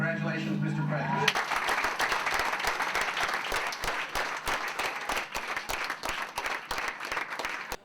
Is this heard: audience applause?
yes